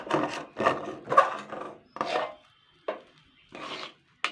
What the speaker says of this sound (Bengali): এই কড়াইয়ের পাশে যা লেগে আছে সব এগুলো আমি এইভাবে নাড়াচাড়া করে আমি একসঙ্গে মিশিয়ে নেব।